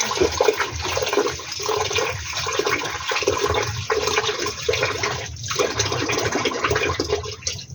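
Rice being washed in water at a beach campsite in Calatagan, Batangas, a loud close sloshing and swirling of water that runs steadily without pause, with no talk.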